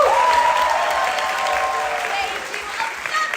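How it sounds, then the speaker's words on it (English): An audience gives a loud, sustained round of applause at a live show, dense clapping from many hands that stays steady for several seconds and fades slightly toward the end, with a faint voice or whoop carried above it. "let's give them a round of applause"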